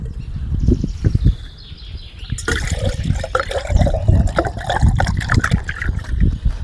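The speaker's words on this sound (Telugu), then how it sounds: "2 చెంబు నీళ్ళు వేస్తున్నా." Water is poured from a pot into a cooking vessel while ragi mudda is made, two measures for a kilo of ragi, splashing and gurgling in uneven bursts at close range, growing fuller and more turbulent midway.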